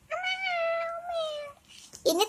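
One long, drawn-out meow is followed by a short, higher second mew, both close and clear against a quiet background.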